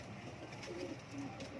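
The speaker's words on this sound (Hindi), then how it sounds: "ये मेरा लाल चीना कबूतर है।" A red Chinese (Lal Cheena) pigeon giving low, soft coos, faint against a murmuring background, as if heard in a pigeon farm.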